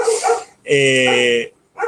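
Dogs barking close by in a home: loud, harmonic barks and yelps in three bursts, the middle one long and sustained.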